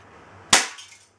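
A single sharp shot from a Galaxy G6 airsoft gun, loud and close, with a short decaying tail after the crack and a faint steady hum underneath.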